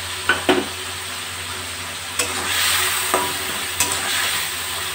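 Fried potatoes and spice paste sizzle steadily in oil in a pan, with a few sharp scrapes and taps as a spoon stirs them.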